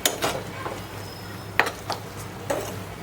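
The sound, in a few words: stirring ginger frying in a pan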